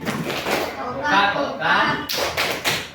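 A classroom of pupils performs the "Tepuk Coca-Cola" clapping chant, voices chanting together with bursts of sharp group hand claps at a steady rhythm.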